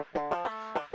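Dry DI electric guitar plugged straight into a self-built amp plugin with no effects, playing a short run of plucked notes with clear sustained harmonics, each attack distinct and close, heard alone.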